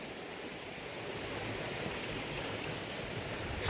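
A waterfall on a Catskills hiking trail rushes as a steady, broad wash of water noise, soft and somewhat distant, unbroken throughout with no voices.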